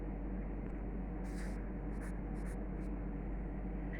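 Pen writing an answer by hand during a geography lesson, a few short scratchy strokes in bursts over a steady background hiss, close and fairly quiet.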